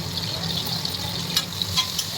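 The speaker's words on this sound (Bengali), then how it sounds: "তেলটা একটু গরম হলে পেঁয়াজটা কড়ার মধ্যে দিয়ে দেবো" A steady hiss of onion sizzling in hot oil in a wok with a few soft stirring clicks, close and moderate in volume, no voices.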